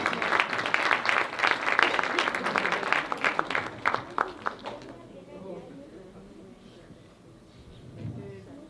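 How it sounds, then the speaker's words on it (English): Awards-ceremony audience claps in a lively burst that thins out and fades after about five seconds, leaving a quieter room where a voice comes in faintly. "Please give him a big round of applause."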